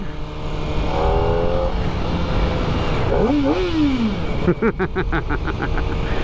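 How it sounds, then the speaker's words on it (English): A Kawasaki ZX-4RR sport motorcycle engine revs up and down, rising and falling in pitch, then a fast rhythmic throttle burble close by. "I'm revving. Hey, man, I'm making sounds for you"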